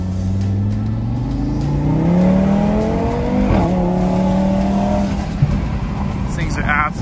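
A tuned Audi RS3 with intake and mid pipes accelerates from the driver's seat, its engine note climbing through the gears with turbo whoosh, loud and close, while someone talks over it.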